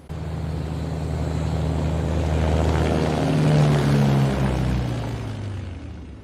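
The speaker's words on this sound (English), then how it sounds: "You're cleared for takeoff when ready." A small aircraft taking off from a remote airstrip, its engine droning loud and steady with a rising, swelling rumble that peaks midway and continues without talk.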